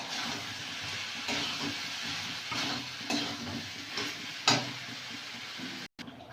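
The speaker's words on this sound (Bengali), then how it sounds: "আলুগুলো দিয়ে দেবো। আর দিয়ে দেবো স্বাদ মতন লবণ, দিয়ে কষে জল দিয়ে দেবো" Potatoes sautéed in spiced oil for aloo dum posto in a village kitchen give a steady close sizzle, with periodic stirring scrapes, before cutting off abruptly near the end.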